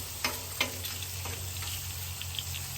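Bacon frying on a Weber Slate griddle outdoors, a soft steady sizzle over a low hum with a few sharp scrapes and taps from a spatula.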